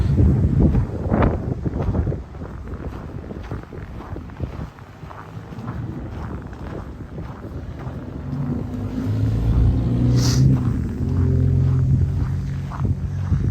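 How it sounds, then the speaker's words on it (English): Cold winter wind gusting outdoors on a downtown Regina street in March, a loud rumbling buffet on the microphone that swells and fades with low passing traffic underneath, no talking. "that blast of wind was annoying"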